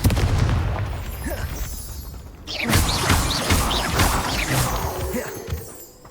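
A Confringo spell detonates in Hogwarts Legacy, a heavy blast erupting midway that leaves a rumbling, crackling tail of debris and effects which gradually fades, following a busy stretch of spell and combat noise.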